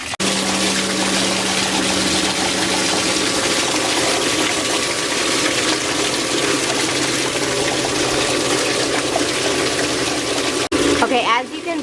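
An Intex sand filter pool pump runs steadily through a backwash, giving a continuous loud hum and water rush that holds unbroken before a brief clatter near the end.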